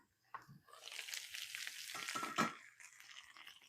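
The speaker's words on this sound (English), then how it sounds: "the trick with frying up your potatoes for hash browns" Potatoes and bacon fry in a skillet for a brunch spread, giving a steady close crackle and sizzle with brief stirring scrapes and a sharper pop partway through.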